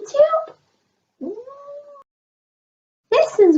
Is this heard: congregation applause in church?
no